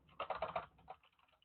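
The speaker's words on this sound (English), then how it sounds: "I'm going to type this into the chat" Quick clattering keystrokes on a computer keyboard, a short flurry of close, soft taps that trails off into a few scattered presses.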